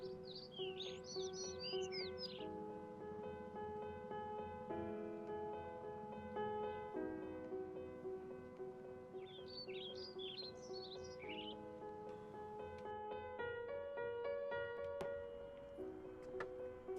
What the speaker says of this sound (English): It's a sparrow.